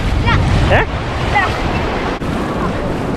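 Ocean waves wash steadily onto a Cape Town beach in a continuous loud roar mixed with heavy wind buffeting, while voices and faint calls sound in the background.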